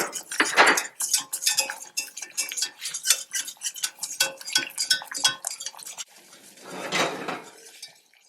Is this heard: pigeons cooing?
no